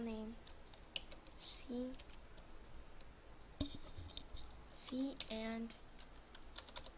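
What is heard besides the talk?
typing a file name on a computer keyboard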